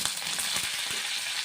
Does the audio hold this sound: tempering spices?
yes